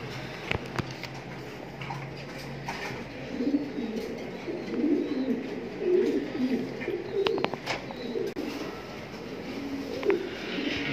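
Afshan Grizzle racing pigeons in a loft, a breeding pair cooing in soft, repeated low phrases, with scattered clicks and wing or cage knocks around them.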